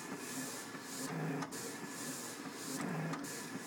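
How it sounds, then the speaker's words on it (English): Vinyl printer with a contour cutter cutting decals, a steady mechanical whir and hiss with repeated sliding carriage passes, close and continuous with periodic sharper ticks. "the contour cutter is just now finishing the contour cuts and putting on a weed border"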